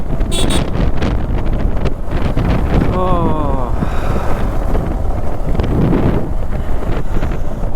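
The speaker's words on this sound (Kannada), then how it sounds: "ತಣ್ಣಗಿರೋ ಗಾಳಿ" Cool wind blasts across the microphone during a motorbike ride home, a loud constant roar with a brief voice-like sound partway through.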